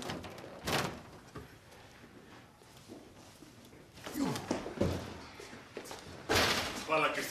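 A door is opened indoors in a clinic setting, giving a few thuds and knocks spread among quiet background noise while people talk.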